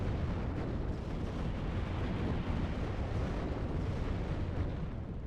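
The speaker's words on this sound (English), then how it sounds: "BMPs now starting to open up fire" BMP infantry fighting vehicles open fire in a WARNO battle: a loud, dense, continuous barrage of booming shots and explosions rumbling without pause, with no talking.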